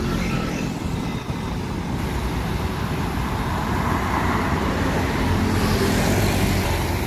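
A Sempati Star intercity bus pulls in at a stop, its engine rumbling low and steady amid continuous roadside traffic noise, close and fairly loud throughout.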